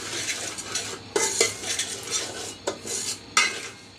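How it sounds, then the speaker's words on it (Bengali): Metal spoon scraping and clattering against a pot as semolina is stirred while dry-roasting on low heat, in irregular bursts of close, loud scrapes with faint sizzle between. "অনবরত নাড়াচাড়া করে একটু বেজে নিচ্ছি বেশি ব্রাউন করব না সাদা অবস্থায় বেজে নিব"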